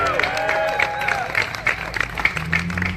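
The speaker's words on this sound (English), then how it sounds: "Can we get a round of applause for that?" An outdoor crowd at a rally in Ocala, Florida claps in a quick, fairly even rhythm, mixed with scattered voices and cheers, moderately near.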